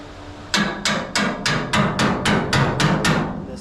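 A hammer strikes the spot welds on a 1969 Dodge Charger trunk pan in a steady run of about ten loud, sharp metallic taps, evenly spaced, close up and with no voices over them.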